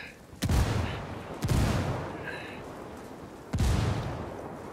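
Three heavy, booming blasts roll out and decay in a Ghost Recon Wildlands firefight, a frag grenade explosion among gunfire, with loud reverberant tails and faint distant shots between them.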